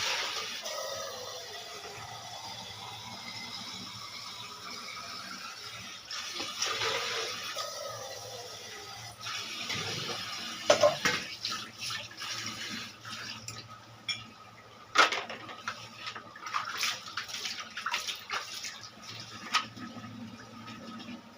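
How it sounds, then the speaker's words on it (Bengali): Polao rice being sautéed in a pan for chicken biryani, a steady sizzling hiss with scattered scraping and stirring clatter that grows busier partway through, heard close with no talk. "হ্যাঁ, কষাচ্ছি পোলাও চালটা"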